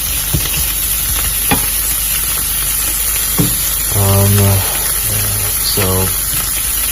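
Pork frying in a pan with a loud, continuous sizzle and hiss, broken by several scraping stirs and clattering utensil strokes in an irregular rhythm.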